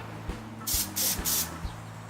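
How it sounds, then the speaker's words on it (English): An aerosol can of UV cleaner spraying to clear its nozzle, with three short hissing bursts in quick succession over a low background hum. "all I do is put that on an aerosol can of UV cleaner"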